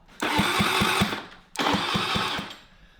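A tiny moped fitted with an oversized engine cranks and catches twice in a row, each burst a rapid rhythmic chugging of firing pulses lasting about a second, close and loud, with no voices.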